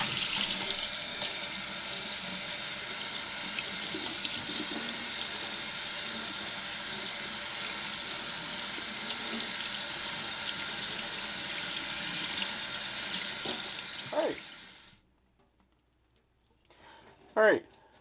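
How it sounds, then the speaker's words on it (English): Tap water runs steadily over a Mishimoto reusable air filter for a 10th-generation Civic Si during a rinse, a constant loud splashing stream that stops abruptly near the end, followed by a few faint clicks. "now we can rinse it off."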